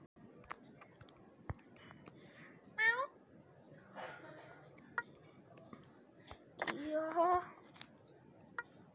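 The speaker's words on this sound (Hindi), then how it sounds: "ये देखो ये मेरी पालतू बिल्ली" A pet cat gives a few short meows up close in a quiet room, with soft shuffling and faint murmured talk between them.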